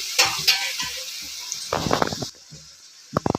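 Onion, garlic and dry red chilli paste hitting hot oil with tomato for a Bengali prawn curry, giving bursts of sizzling and scraping stirs in short, uneven spells with quiet gaps between.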